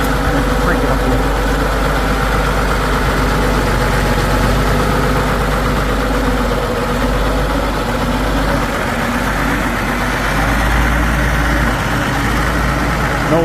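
A 1986 John Deere 4050 tractor engine runs loud and close with a steady deep rumble for the whole stretch. The revs stay fairly constant, with no clear surge.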